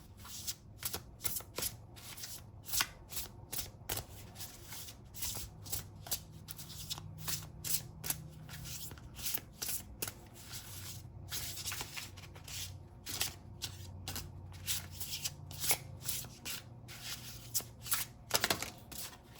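Tarot cards shuffled by hand in a long run of rapid riffling and soft flicking bursts, moderately close and fairly quiet, with no talking.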